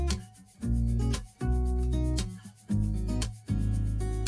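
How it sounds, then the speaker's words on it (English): Caulked bathroom trim being sanded smooth, four or five loud rhythmic rubbing strokes, each a sustained back-and-forth pass with short pauses between, close and without talk. "Sand it all out. Nice and smooth, looking good."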